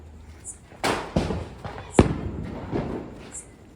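Diwali firecrackers set off outdoors in a village, a few sharp bangs and thuds spaced irregularly, with voices talking in the background.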